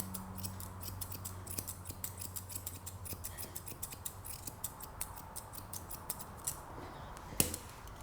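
Grooming scissors trim the hair around a cockapoo's paw, heard as rapid crisp snips in quick irregular runs, close and fairly faint over a quiet background hum, with one sharper click near the end.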